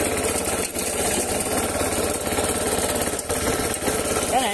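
Engine of a self-propelled high-speed Japanese grass cutter running steadily and loudly after being put into gear, a dense continuous mechanical drone with no talk over it.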